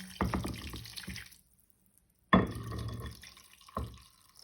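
Dissolved gelatin and meat are poured into containers in a kitchen, giving close wet splashing and dripping in two bursts separated by a silent pause, ending with a shorter trickle.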